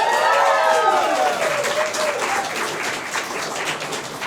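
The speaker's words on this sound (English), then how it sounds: "a big round of applause for Michael and Connie" A live show audience gives loud, dense applause for the lighting and technical crew, with whoops rising above it at the start before the clapping settles.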